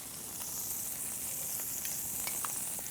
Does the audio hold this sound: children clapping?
no